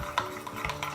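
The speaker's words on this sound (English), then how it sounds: "Mix it all up." Sour cream being stirred in a bowl, soft close scraping and wet dabs in a few quick strokes, faint and brief with no voices.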